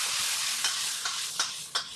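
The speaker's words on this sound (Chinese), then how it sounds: "放入刚才煎好的鸡翅，再放入刚才准备好的小料，快速翻炒均匀" Cola chicken wings being stir-fried in a wok with small aromatics over caramelized rock sugar: a constant bright sizzle close up, punctuated by four evenly spaced scraping clacks of the spatula tossing the pieces.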